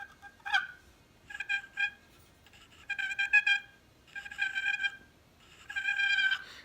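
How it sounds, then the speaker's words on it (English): Soft, rolling purrs from a turkey box call come in several short bursts, a trilling, slightly raspy chatter over a quiet background. "Another call that's really easy with the box call is just a real light purr"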